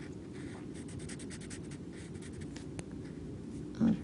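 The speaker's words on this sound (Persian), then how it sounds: "بیاین با مارکر اینو میتونین رنگش کنین" Marker tip rubbing across watercolor paper while coloring, a continuous close scratchy scrubbing of quick back-and-forth strokes, steady and fairly quiet.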